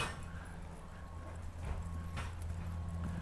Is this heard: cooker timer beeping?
no